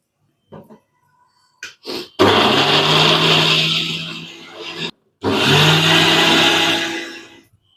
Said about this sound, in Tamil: ஒரு பச்சை மிளகா ஒரு துண்டு இஞ்சி ஒரு மூணு பல் பூண்டுங்க இதை அவ்வளோத்தையும் நம்ம அரைச்சிக்கிடணும்